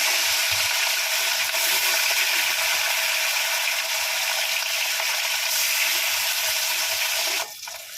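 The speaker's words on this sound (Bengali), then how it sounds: "তেলটা গরম হয়ে গেছে, এবার আমি মাছগুলো প্রথমে ভেজে নেব।" Small live carp fry hiss in hot oil, a loud, steady, even sizzle that holds for several seconds before dropping off abruptly near the end.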